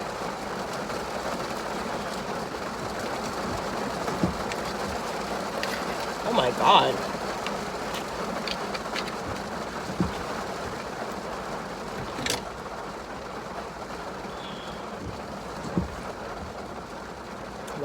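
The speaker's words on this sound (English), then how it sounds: "It was just sunny, and now all of a sudden it's like beating down on my car." Heavy rain drums steadily on a car roof, a dense continuous patter, while a person speaks briefly over it.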